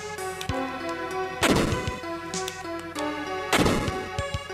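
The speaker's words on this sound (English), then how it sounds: "I can use the bomb. I might have to bomb this area." Two big explosion blasts from a bomb in the video game Final Fantasy Mystic Quest burst over steady chiptune-style game music, the first near 1.5 seconds and the second near 3.5 seconds, each a loud broadband crash that fades quickly.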